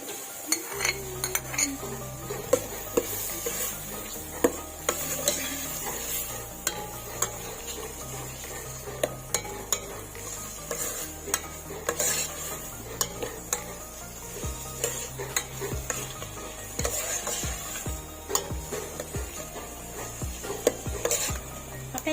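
Mushrooms go into a pan for chicken carbonara and get stirred, with soft clinks of a utensil against the pan, scraping and faint sizzling repeating over a steady hum. No one talks.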